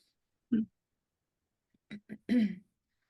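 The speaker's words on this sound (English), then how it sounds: "Sorry, I've got a cough." A few short coughs and throat-clearing bursts from one person during a lunchtime talk, a single cough then a quick cluster of three, close and isolated against silence.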